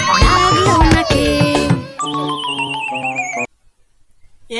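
A bright, loud horse whinny rings out within a children's phonics song, layered with music and sung voices, then the track drops to near silence before resuming.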